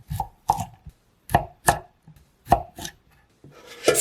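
Knife chopping carrots on a cutting board, a run of sharp separate thwacks in uneven bursts with short pauses between them, close and alone with no talking.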